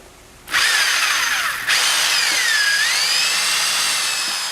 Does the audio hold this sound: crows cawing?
no